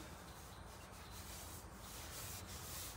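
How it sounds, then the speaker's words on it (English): Filling and sanding on a Karmann Ghia car body, a continuous close rubbing scrape of abrasive over filler, steady and uninterrupted. "I'm filling and sanding"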